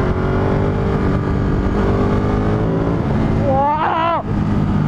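A Ducati Monster 937 motorcycle engine drones steadily while riding, a loud continuous hum with a short rising rev near the end.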